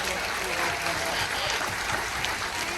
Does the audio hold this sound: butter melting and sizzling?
no